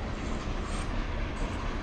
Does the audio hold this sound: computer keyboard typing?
no